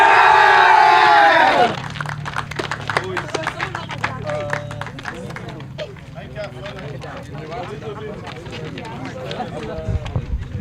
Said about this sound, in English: I want to hear a big cheer.